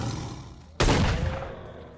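Single sharp, loud blast from a sawn-off shotgun fired in the video game S.T.A.L.K.E.R.: Shadow of Chernobyl, hitting suddenly and then rolling off in a long fading echo over quiet game ambience.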